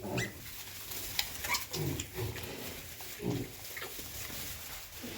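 Newborn multicolored piglets grunt and squeal in short, uneven bursts close by, with quiet barnyard background.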